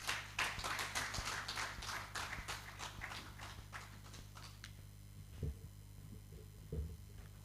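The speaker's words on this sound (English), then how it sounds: "Let's clap for him, please." Audience clapping at a petroleum downstream sector event as a speaker comes to the podium, a brisk burst of claps over a steady mains hum that fades out after a few seconds, leaving faint knocks and shuffles.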